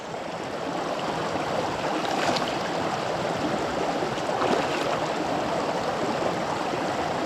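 A cleaned wild trout is washed in running stream water, a steady close rushing and gurgling flow with a couple of brief splashy swells.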